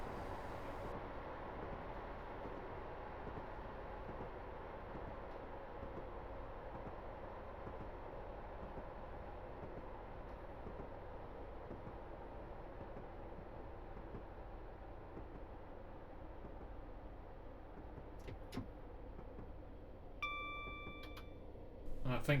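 A Regional Railways Class 158 diesel unit in Train Simulator Classic, running Norwich to Lowestoft, slows down. A quiet, steady low rumble of the train runs throughout, with a few faint clicks and tones near the end.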